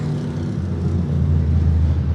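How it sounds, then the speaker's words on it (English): A demolition derby car at Heart O' Texas Speedway blowing its motor going into a corner, a loud sustained low engine roar and rumble with no sharp burst, steady throughout. "73 car pops the motor right there going into the corner"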